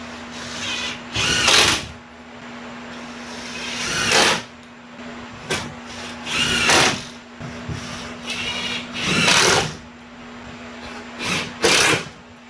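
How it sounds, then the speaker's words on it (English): A power drill drives a couple of small one-inch screws into a wooden garage shelf, with several short whirring bursts of varying length against a steady low hum, close and loud, with no speech. "I'll put just a couple small little 1-inch screws in there just to keep it from sliding around"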